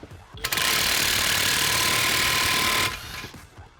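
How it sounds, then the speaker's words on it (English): An impact wrench drives a ball joint press to push out a ball joint, giving one loud, close, continuous rattling hammer burst of about two and a half seconds, then stopping. "you just take this impact, just hope it works"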